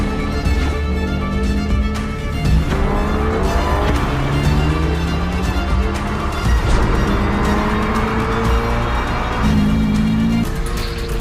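A 2022 Subaru BRZ sports car is driven hard on a racetrack, its engine note rising and falling steadily through gear changes, loud and close throughout, with some tyre noise and no talking.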